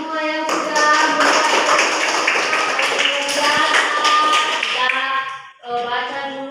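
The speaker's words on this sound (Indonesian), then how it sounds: "Tepuk tangan buat semua yang sudah" A class of students claps together in a classroom, a dense burst of hand claps running for several seconds and dropping off near the end, with sustained tonal sounds layered over the clapping.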